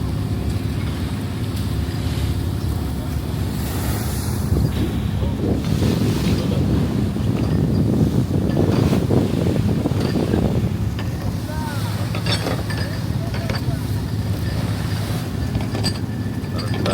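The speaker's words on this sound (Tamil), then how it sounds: "பாருங்க அலை ஓடுது. சர சர சர சர சர சர சரன்னு" Sea waves rush steadily past a fishing boat off Pangkor Island, a continuous surging wash with heavy wind buffeting the microphone throughout.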